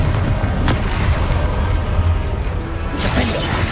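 The Confringo blasting spell explodes in Hogwarts Legacy, loud, heavy booms and crashing impacts in quick succession, one sharp blast near the start and another swelling burst at the end over rumbling game noise.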